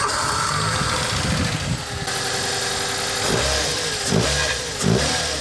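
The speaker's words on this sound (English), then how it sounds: "I'll get my dad to start the car." A Nissan K11 car engine with an HKS air filter turns over and catches, then idles roughly and revs loudly in several sharp bursts, close by, with no voices.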